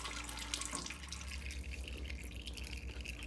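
Engine oil drains from a John Deere 3020 tractor, a continuous close trickling and dripping of liquid with a faint low hum beneath, no talking.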